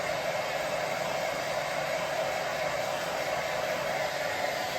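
A hair dryer blows steadily on a craft project to dry wet paint, its continuous airy whoosh holding one even level throughout with no talking.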